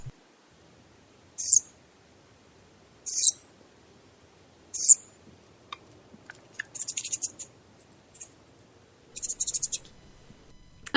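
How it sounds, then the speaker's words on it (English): High, thin squeaky calls of a southern flying squirrel in Kentucky, three separate chirps followed by rapid twittering bursts, against near silence. "we have the southern flying squirrel here in Kentucky"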